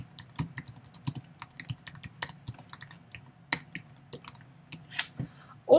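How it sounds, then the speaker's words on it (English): Fingers typing on a computer keyboard, a quiet close run of irregular clicking keystrokes with short pauses between bursts, no voices. "I can type this word in as I run across it"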